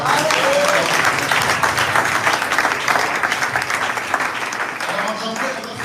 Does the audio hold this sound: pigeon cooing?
no